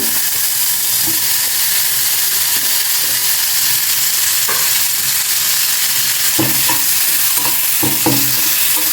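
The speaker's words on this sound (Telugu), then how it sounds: "ఇప్పుడు ఇదే ప్యాన్లోకి మనం టమాటో ముక్కలు కూడా వేసేస్తాము" Raw tomato pieces sizzle and hiss steadily in a hot pan, with occasional stirring clinks and scrapes over the constant close frying noise.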